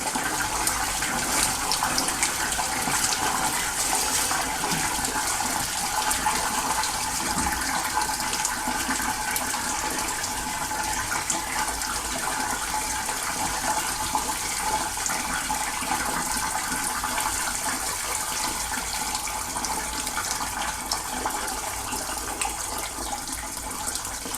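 Water sprays steadily from a rotating wand with a 90-degree elbow as the inside of a steam boiler is washed out, a continuous close hissing rush without a break.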